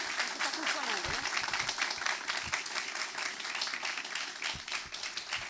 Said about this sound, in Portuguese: vamos receber a professora com uma salva de palmas